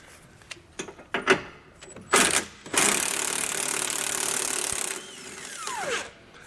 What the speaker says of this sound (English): we'll take a 22 millimeter socket and remove these two nuts off of the back of our